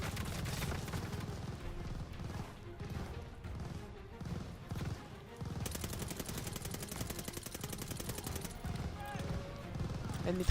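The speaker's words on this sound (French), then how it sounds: "La mitrailleuse." Machine gun fire in the video game Call of Duty: Vanguard, with rapid bursts of shots and a long continuous rattling stretch, mixed with other game noise and sounds.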